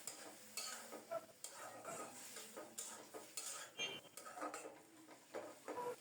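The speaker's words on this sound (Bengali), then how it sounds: "ভালোভাবে নেড়ে চেড়ে ঢেকে ঢেকে অল্প তাপে দারুণভাবে রান্না করে নেব।" A spoon stirs a spiced fish curry with tomato, salt, turmeric and chili powder in a pan, giving repeated scraping and clinking strokes over a soft sizzle, close and steady throughout.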